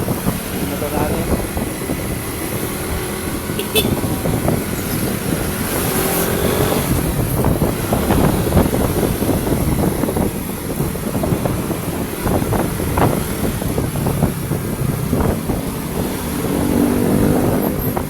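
A motorcycle engine runs steadily through a ride, hot after about two hours on the road. The rumble is a dense, continuous low drone mixed with road and wind noise, with a voice faintly heard over it.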